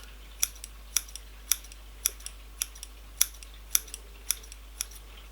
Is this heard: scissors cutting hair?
yes